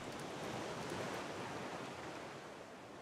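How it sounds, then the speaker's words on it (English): Steady rushing ocean surf in the survival game Raft, a continuous wash of waves around a floating raft with no voices. "Can you turn the waves off?"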